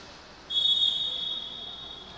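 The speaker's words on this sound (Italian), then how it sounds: "fischio dell'arbitro" A single long, high referee's whistle blast cuts in at a women's roller hockey match and fades gradually, fairly faint against a quiet arena background.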